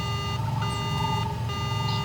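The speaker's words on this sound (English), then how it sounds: "The speeder's alarm begins to ring out." A parked speeder's alarm in Star Wars: Knights of the Old Republic rings out loudly as a steady electronic tone with pulsing beeps, repeating in short cycles over a low hum.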